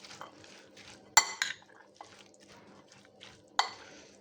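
Mexican salad dressed with olive oil and pomegranate molasses being tossed in a bowl: soft wet mixing with a few sharp clinks of a utensil against the bowl, close and quiet, with no voices.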